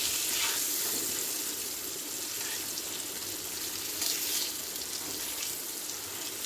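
Potatoes deep in hot oil fry with a continuous, dense hiss and soft bubbling, heard close and alone for several seconds.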